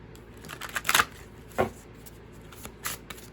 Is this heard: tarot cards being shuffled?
yes